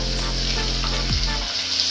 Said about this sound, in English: let the onions fry until it turns golden brown